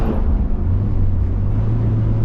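Steady low traffic rumble with a continuous engine drone, like vehicles rolling past nearby, no voices.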